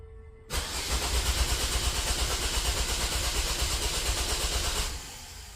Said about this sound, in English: let me go ahead and crank the engine and see if we actually measure that voltage